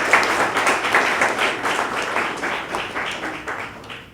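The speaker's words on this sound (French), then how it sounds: "On applaudit." Audience clapping at a 30th anniversary celebration, a rhythmic burst of applause that starts strong and gradually fades toward the end.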